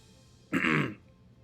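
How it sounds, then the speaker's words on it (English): One short, rough throat clearing from a man close to the mic, about half a second long, set against a quiet room. "I apologize for the cough."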